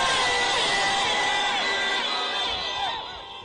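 A large outdoor rally crowd in Narok cheers and shouts loudly in a dense, sustained roar that eases slightly toward the end.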